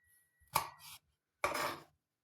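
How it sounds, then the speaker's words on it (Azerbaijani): A knife chops tomatoes for a crab salad in two quick, crisp strokes on a board, heard up close in an otherwise quiet kitchen. "Bir də pomidorumuzu da doğrayırıq"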